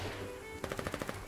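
Submachine gun fire in the video game Foxhole, a quick burst of about eight rapid, evenly spaced shots following a moment of quiet, moderately loud and close.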